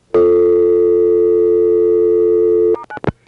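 A telephone tone on a 1983-era 1A ESS Centrex line, one long loud steady tone lasting over two seconds, then a few brief clicks and blips as the line cuts off.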